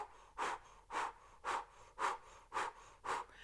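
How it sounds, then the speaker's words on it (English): Forceful belly-driven exhalations through a rounded O-shaped mouth in a breathing exercise, six evenly spaced breathy whooshes about half a second apart, close and fairly soft, with no talking. "And through the O mouth breath, it looks like this."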